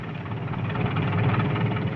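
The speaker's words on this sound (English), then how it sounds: "The tractor and its multiple uses are revolutionizing this part of the cattle industry." A tractor engine running on a cattle ranch in the 1950s, a steady low rumbling drone at moderate level with no voices over it.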